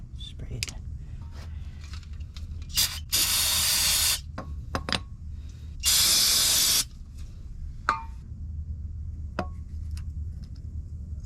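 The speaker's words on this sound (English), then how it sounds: "Spray it." A spray can of brake cleaner hisses in two bursts, each about a second long, onto the rear brake parts of a Honda Accord. Quiet garage clicks and handling noises fall between the bursts.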